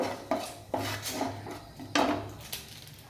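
A spoon clatters against a pan while stirring a potato filling with chili, coriander and cumin powder: several sharp metallic knocks and scrapes, close and fairly loud, with quiet gaps between them.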